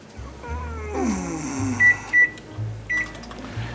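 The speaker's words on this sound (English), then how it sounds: "I got the pinto beans in the microwave." Microwave oven running while heating pinto beans in a kitchen, a steady low hum with several sharp high beeps near the end, close and fairly loud.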